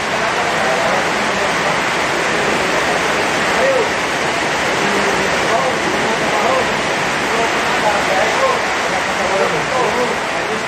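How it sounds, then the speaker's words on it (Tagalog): A steady, loud downpour of heavy rain roars outside a house during a Christmas party, unbroken for the whole stretch, with faint voices underneath. "Parang binuhos talaga ang ulan."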